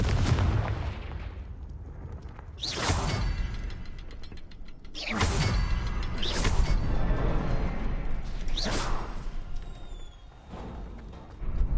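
Fire spells burst as explosive blasts in a fantasy adventure game, three or four heavy booms with crackling, creaking debris spread across a low rumbling background, loud and without speech.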